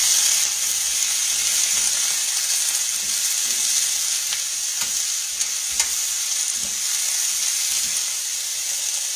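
Squash and red peppers stir-fry in a pan with Everglades seasoning, making a loud continuous sizzle close by, with scattered scraping stirs.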